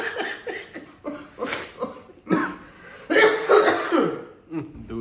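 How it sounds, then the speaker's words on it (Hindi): A man in poor health coughs repeatedly in close, rough bursts, irregular hacking fits with throat clearing, and a louder cluster of coughs near the end. "दूर हो जाओ खांस रहा"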